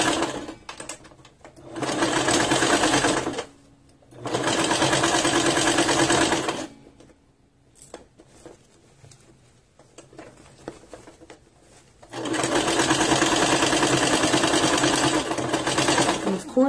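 Sewing machine stitching back and forth on a corset-back zipper replacement, three loud sustained bursts of rapid mechanical stitching separated by short pauses and quieter handling noises.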